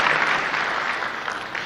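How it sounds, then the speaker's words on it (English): An audience at a political party gathering in Eldoret claps briefly, a steady wash of applause that slowly fades. "Let's give him a proper clap for that."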